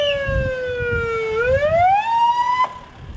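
Emergency vehicle sirens, including ambulances and a fire engine, sound at a fatal crash where a car struck a bridge pillar near Alikarnassos, Heraklion; one loud, close wailing tone dips slowly, then sweeps upward and cuts off.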